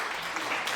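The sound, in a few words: applause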